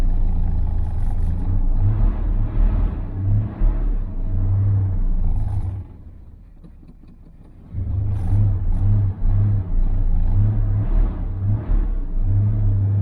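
A car engine fitted with two Chinese-made knock-off Rochester Quadrajet carburetors, not started in a while, runs close and loud with a rough rumbling idle and repeated revs, quieting briefly midway before revving again; no one speaks.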